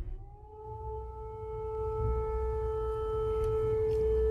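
An air raid siren in Kyiv wails in the distance, one steady sustained tone that swells slightly louder over a low background rumble.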